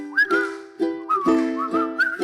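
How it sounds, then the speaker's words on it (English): A person whistles a lilting, cheerful melody nearby, clear and sustained notes rising and falling over a steady low drone. "Just purse your lips and whistle"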